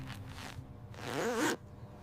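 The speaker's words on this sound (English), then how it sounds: "I can do the zipper." A zipper on a child's jacket is pulled in two quick strokes, a short zip and then a longer, louder rasping run, heard close up with no talking.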